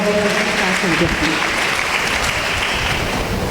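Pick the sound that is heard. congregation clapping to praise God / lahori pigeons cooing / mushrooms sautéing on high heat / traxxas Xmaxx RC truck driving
congregation clapping to praise God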